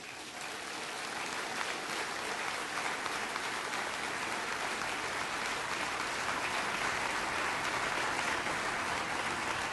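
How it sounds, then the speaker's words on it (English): A hall full of people applauds the government and MILF peace negotiating panels at Malacañan, sustained dense clapping that holds steady and swells slightly over nearly ten seconds. "Please join me in applauding and honoring the work of the GPH and MILF peace negotiating panels."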